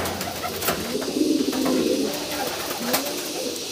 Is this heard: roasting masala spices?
no